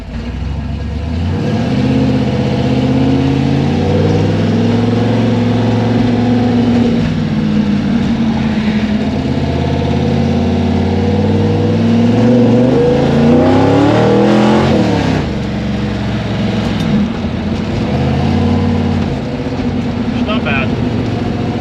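A 1964 Chevy II gasser with a tunnel ram and dual quads runs steadily at about 1,800 RPM, a loud, close, continuous engine drone with a rich rumble that holds evenly throughout.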